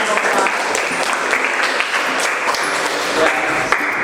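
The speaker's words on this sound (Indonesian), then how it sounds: "Beri tepuk tangan untuk kelompok 4." A classroom of students applauds a presenting group in a steady, dense burst of clapping that fills the whole span, close and loud, with some voices mixed in.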